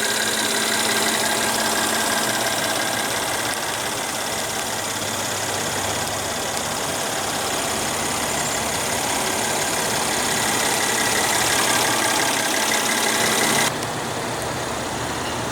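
A 2015 Mercedes-Benz GLK 350 with a 3.5 L V6 runs steadily, a smooth continuous engine hum that holds level throughout before dropping slightly near the end.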